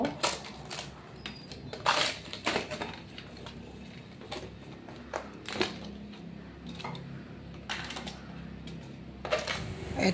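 Aluminum foil peeled and crinkled off chicken drumsticks, wings and feet while making bone broth, heard as sharp, irregular crackling rustles and clicks at close range, some louder bursts among quieter handling noise.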